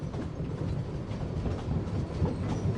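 Steady rumbling clatter of a train rolling along rails in a video game, a continuous loud mechanical din with faint rhythmic clicking of wheels throughout.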